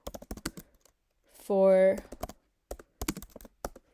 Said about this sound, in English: my keyboard is really bugging out today, or maybe it's just my typing